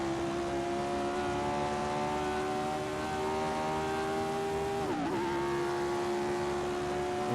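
A 1967 Formula 1 race car engine in a video game at the Italian Grand Prix, heard as a loud, sustained whining drone leaving the pits, with a brief pitch dip and recovery partway through.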